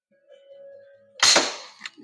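A slingshot fires and its shot strikes the target with one loud, sharp crack, preceded by a faint steady tone and followed by a short rattling tail.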